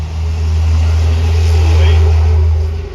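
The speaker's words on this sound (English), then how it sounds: "all these trucks, there's so many loud vehicles today" Loud trucks pass by near a parked van, a heavy low rumble that swells to a peak and then eases off, close and dominant.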